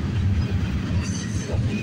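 CN and CP freight trains pass each other in a train meet, a BNSF unit trailing; steady low rumble of rolling railcars and wheels throughout, continuous and fairly close, with no talk.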